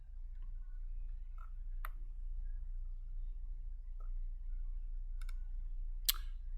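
A few sharp, isolated computer mouse clicks, close and crisp, spaced irregularly over a quiet low hum, with a double click near the end.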